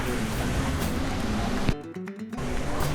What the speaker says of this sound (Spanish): Se puede ver un poco de cerca la cascada, pero vamos a seguir subiendo para que la vean mejor.